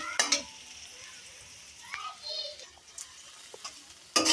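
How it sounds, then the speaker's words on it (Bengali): Onions fry quietly in a pan in a village kitchen, a soft steady sizzle broken by a few clinks and scrapes of a spoon stirring, with a louder scrape at the end. "ভাজা ভাজা হতে থাকছে।"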